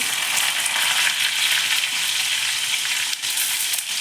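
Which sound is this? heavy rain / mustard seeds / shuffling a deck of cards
mustard seeds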